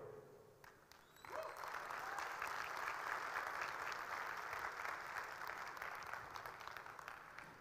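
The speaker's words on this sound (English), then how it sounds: "this slide deserves a massive, massive round of applause" Applause breaks out from the audience at the Revolt RV400 electric motorcycle launch after a brief quiet moment, swelling into sustained, fairly distant clapping that continues steadily.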